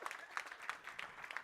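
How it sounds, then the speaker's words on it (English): A small audience at a business talk claps in a faint, fairly quick patter with a few sharper hits, distant and short-lived. "A round of applause for Chele"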